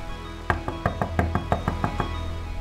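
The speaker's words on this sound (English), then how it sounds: "She knocked on the door." Knocking on a house door, about ten firm raps in a quick uneven rhythm, clear and close with no voices over them.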